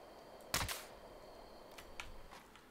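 One sharp, near gunshot aimed at a bear in Fallout 76, followed by a few fainter, scattered cracks in a quiet outdoor setting.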